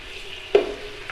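Tomatoes hit a pan of frying onions for chicken pulao, making one soft thud and a brief stirring scrape over a low, steady sizzle.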